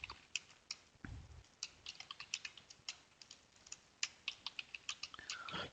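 Someone types on a computer keyboard while building a web page, with quick, irregular key clicks in short bursts, close and fairly quiet against a faint background.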